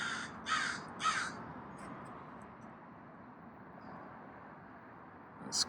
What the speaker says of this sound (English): This crow up here isn't really too pleased with me standing here. He's got a lot to say about it.